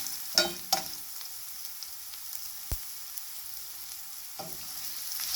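Garlic sautéing in a pan for a gongura (roselle leaf) pickle gives a steady, faint sizzle throughout, with a few sharp clicks and scrapes of a utensil against the pan.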